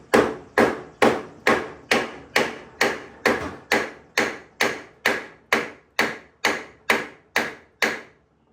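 A part on a Baja Bug is tapped into place with a hammer, about sixteen sharp, evenly spaced knocks in steady rhythm, close and clear with no talk.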